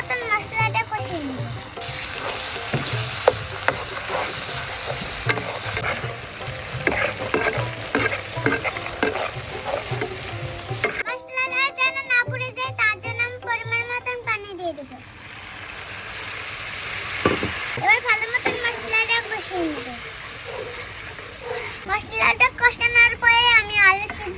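Spices with cinnamon and cardamom, coriander powder and salt frying in a pan for aloo dum while being stirred, a loud continuous sizzle with scraping strokes, and a voice talking over part of it.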